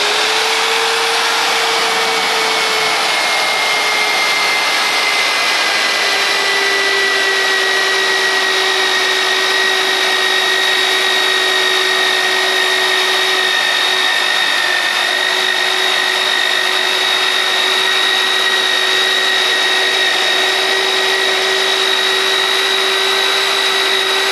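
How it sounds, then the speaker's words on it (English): A steady high-pitched motor whine runs continuously for the whole stretch, a power tool spinning at constant speed with no pauses and no voices. "You ready to see if we can drill a hole through that?"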